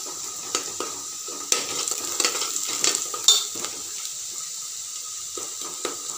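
Onions fry with garlic chutney in a pan, producing a steady sizzle broken by repeated scraping and stirring clinks from a spoon against the pan.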